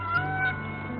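A single short cat meow, close and moderately loud, rising and fading within about a second against a low hum.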